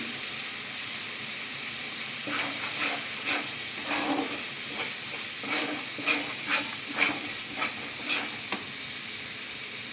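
Spice paste for Bengali chicken kosha, with cashews, poppy seeds and sesame, stirred and fried in a pan: a steady close sizzle underneath, with scraping stirring strokes coming in rhythmic bursts through the second half.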